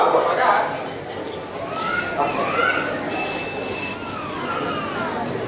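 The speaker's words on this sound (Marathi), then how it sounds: "पुन्हा फोन आला." A telephone rings in a short burst of two bright electronic tones partway through, heard over a murmur of background voices.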